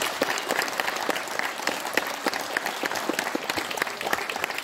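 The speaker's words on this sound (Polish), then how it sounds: "Wielkie brawa, proszę Państwa." An audience at a wrestling league opening ceremony bursts into continuous applause, a dense, even patter of many hands filling the hall at moderate volume.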